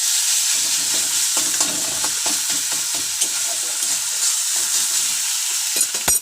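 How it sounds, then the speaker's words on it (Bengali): Chicken being stirred with sugar in a hot frying pan, a steady loud sizzle broken by repeated scraping clicks of the spoon against the pan, with no voices. "আমরা একটু নেড়ে নেব চিনিটা দিয়ে।"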